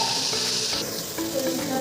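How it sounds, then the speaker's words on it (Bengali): Spiced meat with cashews and raisins being stirred in a hot cooker, a steady loud sizzle with scraping strokes running continuously. "মাংসটা ভালো মতন করে এখন নাড়বো"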